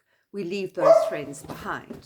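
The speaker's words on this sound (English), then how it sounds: "Apologize for my dogs. They're wanting some social interaction too." Pet dogs bark and yip close by in short, sharp bursts over a man's speech, the barks loud and overlapping his talking.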